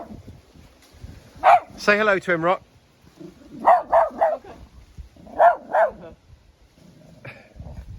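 A dog barks in three short bursts of two or three close, loud woofs each, outdoors near a pear tree, with a person talking in between.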